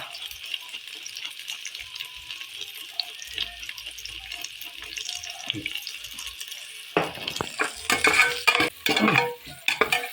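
Duck adobo simmering in coconut milk with bay leaf and pepper, stirred in a pot: soft scraping and bubbling at first, then louder clattering stirs and sizzling bursts in the second half.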